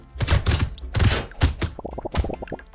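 A character blows itself up in the video game Brotato after picking up food with a spicy sauce effect, giving a few sharp, punchy bursts followed by a quick run of small clicking pops.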